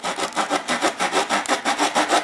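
Hand-sawing a notch into a wooden bow drill hearth board outdoors at a winter camp: close, loud, steady back-and-forth rasping strokes, about five per second, with no talk.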